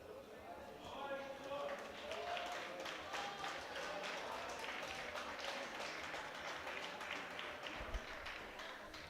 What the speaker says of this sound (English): And now with a roaring applause from the Ukrainian crowd